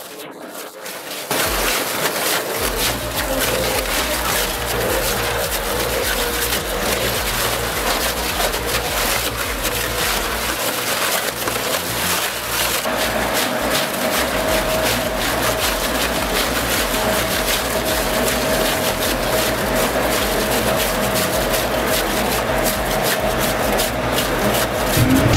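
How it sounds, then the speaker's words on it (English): A ComTech Crambo dual-shaft wood shredder with a 610-horsepower engine grinds forest waste into biomass, a loud, steady heavy mechanical roar and rumble that holds constant throughout with a rising whine near the end. "The ComTech Crambo Wood Shredder takes forest waste and turns it into valuable biomass."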